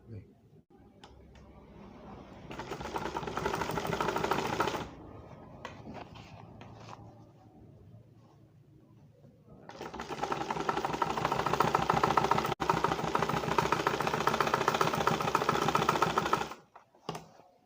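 A sewing machine stitches a cut piece of cloth in two long, loud, steady runs of rapid mechanical clatter, with a quieter pause between them where a voice may be heard.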